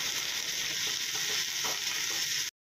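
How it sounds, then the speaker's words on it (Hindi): Crushed ginger, garlic and dry red chillies fry in ghee with a loud, steady sizzle and faint stirring scrapes, close by, ending abruptly in silence. "अभी जिंजर गार्लिक को अच्छे से मैं भून लूंगी।"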